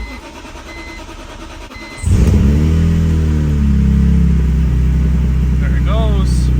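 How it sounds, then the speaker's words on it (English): A BMW E46 M3 engine cranks and catches after its emptied fuel pump is primed, then settles into a loud, steady, close idle that continues without a break. "I'm gonna get it started right now and take it for a ride"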